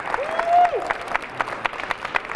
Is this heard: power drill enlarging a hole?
no